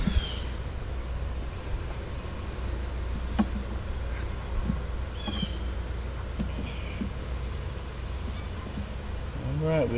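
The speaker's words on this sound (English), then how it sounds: "My cameraman is trying to run from a bee." Honey bees buzz around a hive during a trap-out rehoming, a steady insect drone filling the background with a few louder passes close by, and a person's voice occasionally in the mix.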